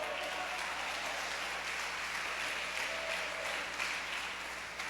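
Church congregation claps together in worship, a dense, steady wash of many hands held at an even level with a slight fade at the end.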